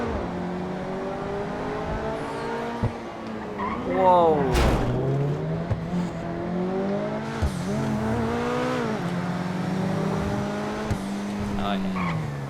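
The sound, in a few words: car engine revving heard from inside, in video game GTA Online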